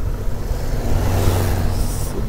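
A Volkswagen Beetle engine strains loudly and steadily in first gear climbing a hill, a rough, rattling drone with constant revving and no speech.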